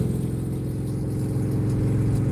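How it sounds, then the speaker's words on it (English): A Harley-Davidson motorcycle rumbles alongside on a highway, a steady deep engine drone with a throbbing low pulse, heard from inside a car over road noise. "You can hear the motorcycle to the right of us."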